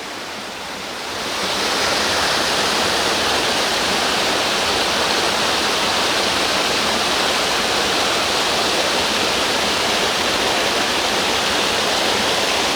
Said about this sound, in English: You can just step right up here on this waterfall.